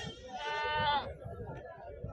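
Goats bleating at the Siddipet weekly livestock market, a loud, wavering bleat lasting about a second over steady crowd chatter and people talking nearby.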